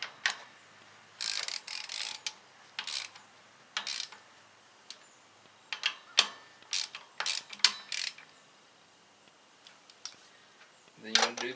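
A ratchet wrench snugs down engine head bolts on a TO-30 tractor, giving bursts of close, crisp clicking in uneven repeated runs with short pauses between them.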